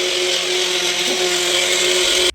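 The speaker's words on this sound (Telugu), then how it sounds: "ఫైన్ పేస్ట్ లాగా మిక్సీ పట్టేసుకోవాలి" A kitchen mixer grinder runs steadily and loudly, grinding coriander masala into a fine paste with water for village-style country chicken curry. The steady whine lasts throughout and cuts off abruptly at the end.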